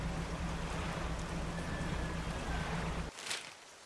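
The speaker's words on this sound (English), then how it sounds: "Now it starts raining." Steady broadband hiss of rain falling on open sea in the fishing game Dredge, with a low engine drone underneath, cutting off abruptly near the end to leave a quieter ambience.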